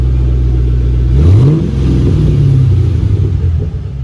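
A 2006 Ford Mustang GT on its factory exhaust gives one sharp rev that climbs and eases back, then holds a slightly raised, loud rumble before dropping toward idle, heard up close with no voices.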